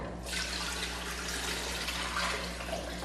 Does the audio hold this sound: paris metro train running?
no